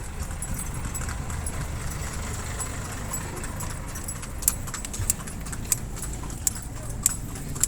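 Horse hooves clip-clop on a rural road in the countryside. Sharp, spaced knocks grow clearer toward the end over a steady low engine-like rumble, with no one talking.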